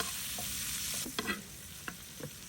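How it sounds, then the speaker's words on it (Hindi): Onions frying and browning in a pan for a beef burger filling, a dense, loud, continuous sizzle up close, broken by a few quick scraping stirs of a utensil, with no voices. "प्याज डाल के और हम इसको थोड़ा सा जो है वो ब्राउन कर देंगे"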